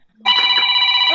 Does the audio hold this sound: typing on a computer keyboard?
no